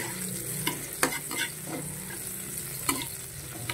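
Ginger and onion sizzle and fry in a pan while being stirred, with a steady hiss broken by several sharp stirring clatters, close and alone with no talking.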